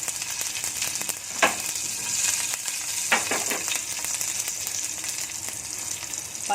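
Mustard seeds and finely chopped green chilli sizzle in hot tempering oil for a Gujarati kadhi, a steady close frying hiss broken by a few sharp pops and crackles, with no voice.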